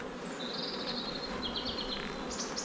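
Honeybees in a beehive, a dense close buzzing drone with a few higher whining tones drifting over it, steady and unbroken, with no talking.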